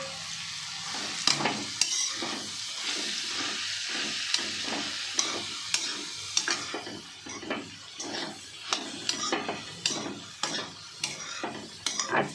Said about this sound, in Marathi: आणि आता कोबी टाकत आहे.